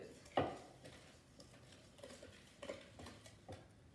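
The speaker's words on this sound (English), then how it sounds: "Then you're going to put 1 cup of sugar in and stir it around." Sugar stirred into a butter mixture in a bowl, soft scraping and gentle clinks of a utensil, one sharper knock early, then quiet intermittent strokes close by.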